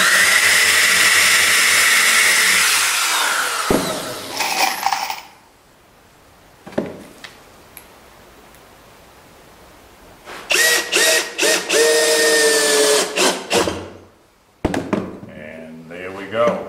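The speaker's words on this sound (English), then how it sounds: "Be careful when you're drilling this one that's in line with the edge, with the bevel." A power drill drives a screw into wood in two bursts, a short one and then a longer, stop-start run, with quiet pauses and a voice speaking between them.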